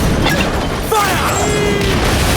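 Cannon fire from a sailing ship in Assassin's Creed Black Flag, a loud deep boom with rumbling crash under constant sea and wind noise.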